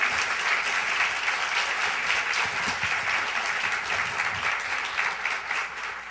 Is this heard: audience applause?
yes